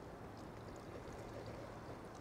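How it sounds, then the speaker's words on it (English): Knob Creek bourbon poured into a pot of BBQ sauce made with mustard, sherry vinegar and crushed tomatoes gives a steady, soft, continuous liquid pour with a low gurgling wash. "And now I add a little bit of my Knob Creek."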